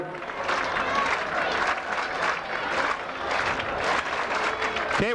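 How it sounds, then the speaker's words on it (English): A 1995 high school football crowd cheers and applauds for Assumption at the start of the fourth quarter in a game against West in Davenport, Iowa, a dense, sustained roar of claps and shouts with voices mixed in. "the crowd alive below us here for Assumption"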